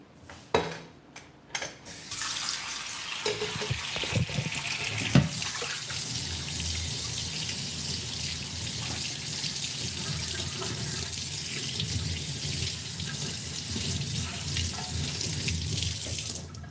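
A kitchen tap runs steadily into a sink after a few knocks, the water flow loud and close and continuing without a break, with faint clinks of dishes.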